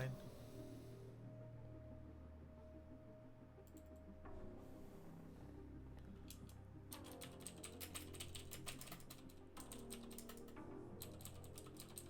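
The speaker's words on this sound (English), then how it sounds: "I have loud keys and very sensitive microphone" Loud computer keys clatter close to a very sensitive microphone, with quick bursts of rapid typing and pauses over a low, steady background hum.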